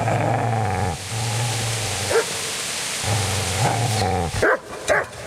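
Dog barking in the medieval role-playing video game Kingdom Come, a few sharp barks bursting out near the end of the stretch after a steady low droning background.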